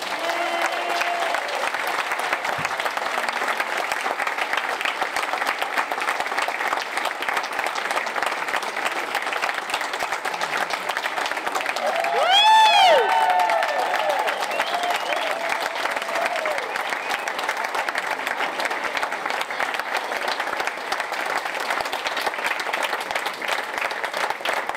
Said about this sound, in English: I want us to give a great big all the way to the moon, Vero Beach welcome for Dr. Buzz Aldrin.